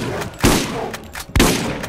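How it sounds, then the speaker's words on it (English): Two loud, close shotgun blasts boom about a second apart in the video game Borderlands, each with a broad burst and a short ringing tail. "I want to try out the shotgun."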